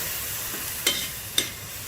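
Cabbage being stir-fried, a soft continuous sizzle with two sharp scrapes of the spatula against the pan, close but fairly quiet.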